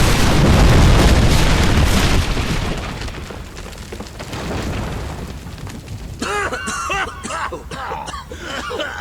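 A loud, dense boom and rumble from a magic-fuelled explosion in the video game Fable 3, filling the first two seconds with broadband roar before decaying into crackling debris, followed by busy game effects and chirping tones.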